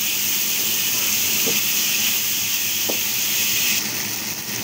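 Tomatoes, onion and chili fry in a pan for a simple pasta dish, giving a steady, loud, continuous sizzle that holds evenly throughout and eases slightly at the very end.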